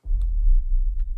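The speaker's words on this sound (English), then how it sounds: "I'm going to add a sub bump, a really low drum that sounds like this" A sub bump, a very low cinematic drum hit, booms once as a deep sustained rumble that lasts about a second, heard alone with faint clicks.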